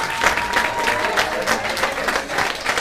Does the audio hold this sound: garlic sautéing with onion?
no